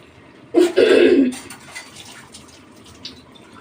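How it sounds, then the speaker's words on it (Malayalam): About a cup of water poured from a small glass into a pan of chicken-parts curry, a short close splash lasting under a second, followed by quiet kitchen background. "ഒരു ഇതുപോലെ ചെറിയ ഗ്ലാസ്സിന് ഒരു കപ്പ് വെള്ളം ഒഴിച്ച് വെക്കുകയാണ്"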